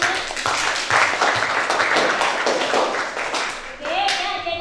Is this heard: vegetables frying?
no